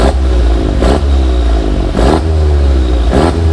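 A 400hp Volkswagen Golf GTI on its factory exhaust revs loudly and close, a steady engine drone broken by three sharp throttle blips about a second apart.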